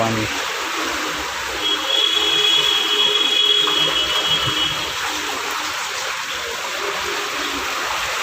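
Floodwater pours through a road in Chikhli, Pune after torrential rain, a steady broadband rush like a fast stream that fills the whole clip at close range with a faint high whine above it.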